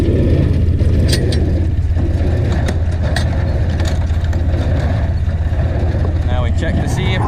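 A tractor's PTO drives a small square hay baler during alfalfa and grass baling, a loud, steady mechanical engine drone with some rattling, close and continuous, with a voice speaking over it.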